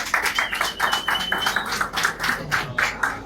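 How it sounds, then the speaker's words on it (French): A crowd at a gathering claps in a fairly fast, rhythmic pattern of repeated sharp hits, loud and close throughout, with faint voices mixed in. "Est-ce qu'on peut applaudir?"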